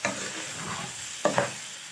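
Rice is stirred in a frying pan, a soft sizzle with scraping turns and two sharper utensil knocks near the end.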